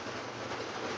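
A Lionel Chessie System diesel model train pulls a line of cars along the track, a close, steady rolling rumble with faint clicking wheels.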